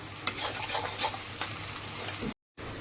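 Onions frying in a pan with ginger and garlic, a steady close sizzle with occasional stirring scrapes, a brief dropout near the end.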